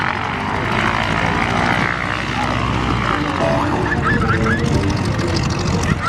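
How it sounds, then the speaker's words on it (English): A 300-horsepower Lycoming nine-cylinder radial of 680 cubic inches, air cooled, runs on a biplane at a flying circus airshow, giving a loud, steady, rough propeller roar that holds close and continuous throughout. "That's a Lycoming 300 horsepower engine with 680 cubic inch engines, 9 cylinders."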